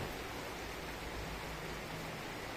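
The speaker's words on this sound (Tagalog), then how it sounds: "bumuhos na yung ulan" Heavy rain pouring down in a steady, dense hiss, continuous and even without pauses, fairly quiet in level with no voices.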